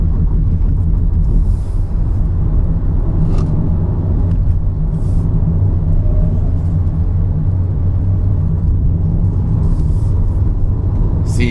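A 2019 Nissan Leaf electric car accelerating up the Genting hill climb, heard from inside as a steady, loud low rumble of road and tyre noise without a rising engine note.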